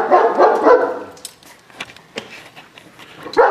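A King Shepherd dog barks close by in a few sharp, loud bursts, with a cluster at the start, scattered single barks in the middle and another bark at the end.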